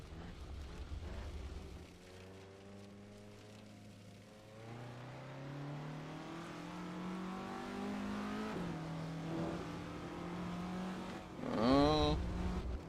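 A Russell Alexis Mk.14 Formula Ford racer in a sim racing game revs steadily, its engine tone climbing through gears before a sharp, loud surge near the end, heard alone at moderate distance.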